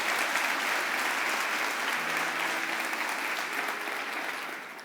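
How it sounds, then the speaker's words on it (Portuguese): A church congregation claps loudly and steadily in praise, a dense unbroken wash of applause that holds for several seconds before gently tapering off. "Você pode aplaudir bem forte Jesus."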